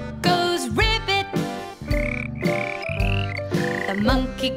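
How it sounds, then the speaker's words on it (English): A frog croaking 'ribbit' in a children's nursery rhyme song, several loud repeated croaks layered over bouncy backing music. "The frog goes ribbit."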